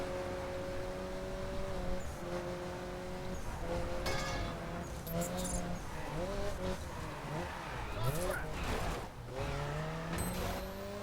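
A race car driven in The Crew, engine droning and shifting pitch as it accelerates and slows, with brief tire squeal, loud and continuous, while a person talks over it at times.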